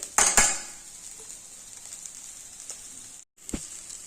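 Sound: stirring chickpeas with grated fresh coconut in a pan

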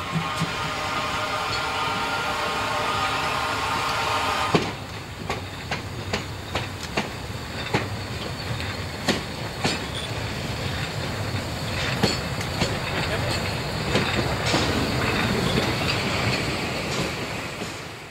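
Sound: Zittau narrow-gauge steam freight train rolling downhill

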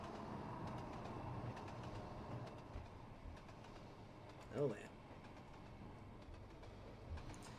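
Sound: commuter train running, from Trainz Simulator 2 video game

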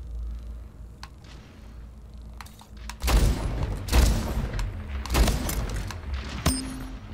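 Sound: shotgun gunfire in the video game Splitgate

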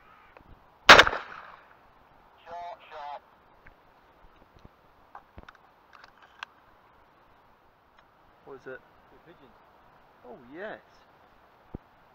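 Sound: gunshot while shooting birds on a grass field

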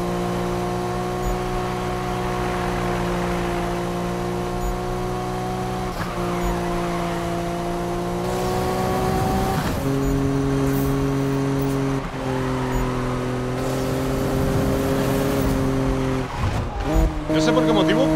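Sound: racing cars in video game Need for Speed 2015

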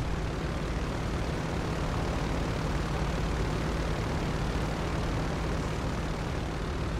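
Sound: cargo plane taking off

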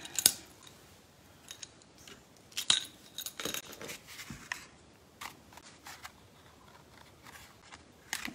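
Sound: small ribbon scissors cutting

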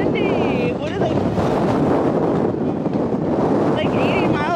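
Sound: strong wind blowing

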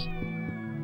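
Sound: cat meowing in the video game Shenmue

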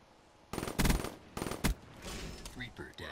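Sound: gunfire in the video game Black Ops 3

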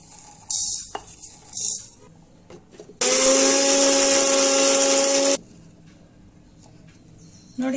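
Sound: mixer grinder grinding fried mustard and fenugreek seeds

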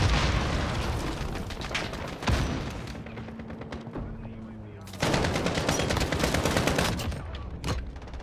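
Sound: gunfire from hip-fired gun in Call of Duty: Modern Warfare video game

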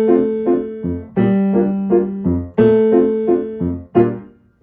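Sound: piano left hand part

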